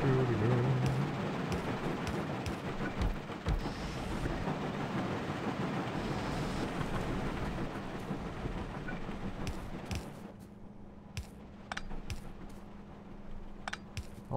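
A moving train in Factorio rumbles steadily with a continuous low rolling roar and faint clatter, fairly loud through most of the stretch before easing somewhat near the end, with sparse clicks above it.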